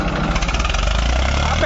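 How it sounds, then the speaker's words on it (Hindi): Eicher 380 tractor engine running steadily with a low, continuous diesel rumble, loud and close throughout, with a voice talking over it. "अब देखेंगे भाई ट्रैक्टर के जोर, ट्रैक्टर की आवाज देखो कैसे"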